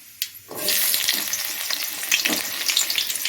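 Onions dropped into hot oil after mustard seeds splutter, for an eel fish curry: a brief tap, then a sudden loud burst of sizzling that carries on strongly and close for the rest, with no speech.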